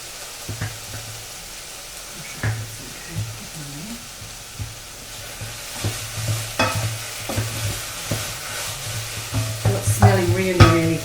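Chicken and chickpea curry bubbling in a pot while being stirred, with a low hum underneath and repeated spoon knocks and scrapes that grow busier toward the end, close and alone without talk.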